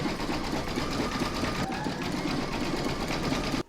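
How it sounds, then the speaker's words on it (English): An embroidery sewing machine runs satin stitching around the edges of an in-the-hoop bunting piece, a steady, close, continuous buzzing whir that holds at an even level throughout and stops abruptly at the very end. "I'm going to pop that back in my machine and stitch round number 17"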